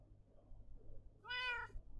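A single cat meow in the Monumenta video game, short, clear and close, rising over a low quiet background hum with no talking.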